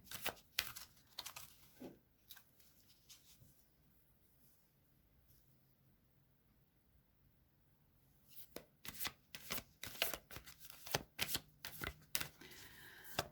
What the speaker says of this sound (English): we will just give them a quick shuffle again